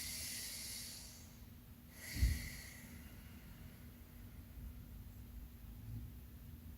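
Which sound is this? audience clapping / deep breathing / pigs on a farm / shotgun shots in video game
deep breathing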